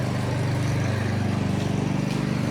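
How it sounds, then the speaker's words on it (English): A lawn mower runs outside on a rural property in Portugal, giving a steady, loud, close motor drone with a fast pulsing chug that holds throughout. "Perhaps doing the mowing."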